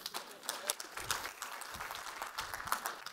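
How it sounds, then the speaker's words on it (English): A business software conference audience gives a round of applause, a brief and fairly faint clatter of clapping spread across the room that thins out toward the end. "give Dale a round of applause"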